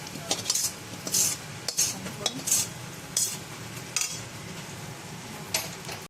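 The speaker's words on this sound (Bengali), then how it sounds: "এবারে আমরা চিকেনটাকে এর মধ্যে ছেড়ে দেব।" Chicken pieces going into a pan of frying butter chicken masala, with a spoon scraping and clinking against the pan in a series of sharp strokes over a low, steady sizzle.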